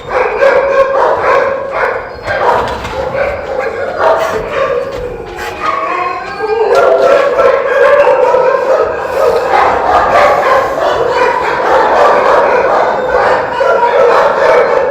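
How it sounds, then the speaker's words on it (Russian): A frightened dog at a temporary dog holding shelter in Yakutsk barks, yelps and howls in close, loud, continuous bursts throughout, with no clear talking over it. "Вот видите, пытается собака вылезти."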